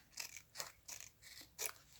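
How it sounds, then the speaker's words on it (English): Scissors cut fabric heat transfer vinyl in about five short, crisp snips spaced at a steady rhythm. They sound close but quiet, with no voices. "let me get my scissors to square this up."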